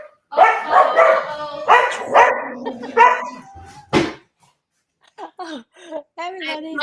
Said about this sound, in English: you're going to hear barking when she walks in